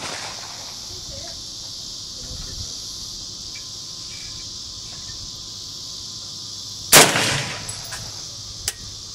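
An AK-47 rifle fired at a 100-yard range, with one sharp loud shot and a short trailing echo near the end, a fainter crack after it, over steady outdoor insect chirping.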